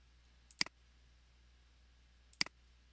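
Computer mouse clicks while selecting entities in DraftSight CAD software, two crisp close double clicks spaced about two seconds apart against faint quiet background.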